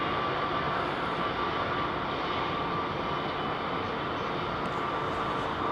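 A United jet taxiing at Heathrow Airport, a steady broadband engine roar that holds evenly throughout without breaks or nearby talk.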